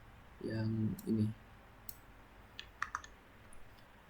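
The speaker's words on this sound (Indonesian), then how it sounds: "selanjutnya itu ada proses klik mouse pada peta" A computer mouse clicks on a digital map in a navigation simulation program, a scattering of quiet, crisp clicks in a short cluster, preceded by a brief low hum that sounds like a voice.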